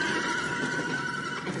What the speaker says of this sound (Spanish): ¿Qué les pasa a los caballos?